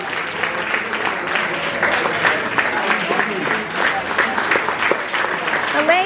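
Sustained clapping from a crowd in an Apple Store, loud and continuous, with people talking over the applause throughout.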